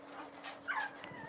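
A young pit bull puppy whimpers softly with thin, high cries and a brief whine, faint and close, with no voices over it.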